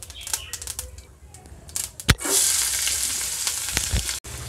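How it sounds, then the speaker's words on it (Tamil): Onions tipped into hot oil with popped mustard seeds: scattered clicks and pops, then a sudden loud hiss as they hit the pan, settling into a steady close sizzle with a few stirring scrapes. "கடுகு பொரிச்சதையும் நம்ம வெங்காயத்தை சேர்த்துக்கலாம்."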